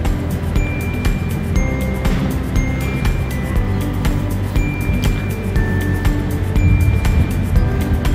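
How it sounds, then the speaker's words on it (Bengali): A speedboat runs fast on open sea during a day trip to Gulhi Island, with a loud, continuous engine roar and water rush, broken by occasional clinks. "স্পিড বোট খুব জোরে চলছে"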